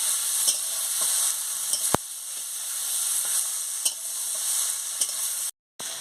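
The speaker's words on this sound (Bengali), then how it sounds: "মিষ্টি দিয়ে ভালো করে নাড়িয়ে নিচ্ছি এইভাবে শাককে ভেজে খেতে হয়" Sushni saag greens with a little sugar fry in a pan while being stirred, giving a steady close sizzle broken by occasional sharp utensil clicks, with a brief drop to near silence just before the end.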